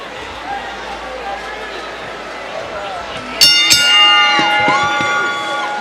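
Boxing arena crowd noise after a ten-round bout, a steady roar of cheering that swells with bell rings partway through while an announcer talks over it.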